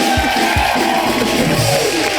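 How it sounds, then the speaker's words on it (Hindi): A comedy show's studio audience claps and cheers loudly for Salman, a thick, continuous roar of clapping mixed with whoops and yells that stays full and close for the whole moment. "सलमान भाई के लिए जोरदार ताली हो जाए"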